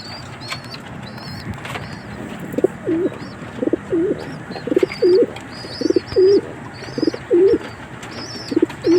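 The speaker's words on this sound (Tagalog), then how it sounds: "Dito naman yung aking mga young bird yan, mga YB ko yan." Young pigeons coo in their loft, a run of repeated low, rolling coos from close by, about one every second, over soft background chirps and faint wing flutters, with no speech.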